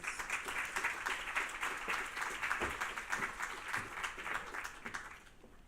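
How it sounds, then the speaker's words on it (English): An audience at a youth leadership forum's opening plenary gives a warm round of applause, a steady, fairly distant crowd clapping that gradually thins and fades near the end. "Please give her a warm applause."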